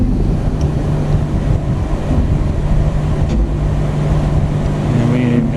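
A motor-driven air compressor runs steadily, pumping air into its tank with a constant droning hum, with a voice speaking over it.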